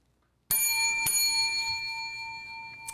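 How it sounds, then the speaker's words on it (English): Bell struck twice in quick succession, a bright metallic ding followed half a second later by a second one, both ringing on with a long sustained shimmering tone that slowly fades, loud and close. "Double bell ring."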